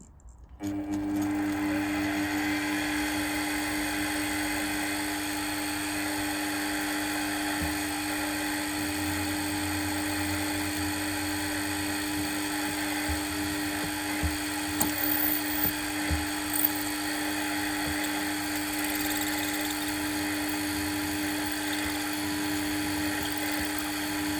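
Small drill boring into a model engine part for a PM Research #3 engine, a steady high-pitched whine held close and level for the whole stretch, with a few brief bumps in pitch and load near the end.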